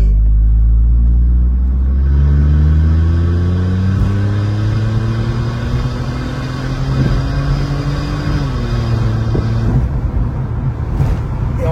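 Car engine rising smoothly in pitch as the vehicle accelerates, a steady close rumble from inside the cabin with a gear-like shift near the end, no talk over it.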